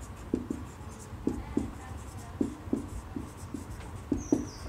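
Pen or chalk writing out a chemistry equation for the reaction of ethyl magnesium iodide with water, a series of short scratchy strokes in uneven bursts, close and fairly quiet, with no talk.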